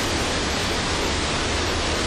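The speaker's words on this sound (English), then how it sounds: "I'm looking at a fall right here." A 10 to 12 foot waterfall fed by a natural mountain spring in Haiti pours down in a loud, steady, close roar of dense rushing water, with no voices over it.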